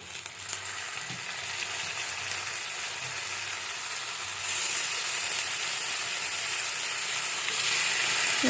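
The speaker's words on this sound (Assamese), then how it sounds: "এতিয়া মছলাখিনি প্ৰায় ভাজ খাইছেই, কাৰণ আপোনালোকে দেখিছেই তেলটো বিৰিঙি আহিছে।" Masala spices fry in hot oil for a meat curry, a constant close hissing sizzle that grows louder and fuller about halfway through.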